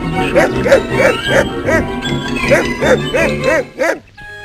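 A dog barks in a quick run of about ten sharp, yipping barks at a steady rhythm, close and fairly loud, then stops abruptly.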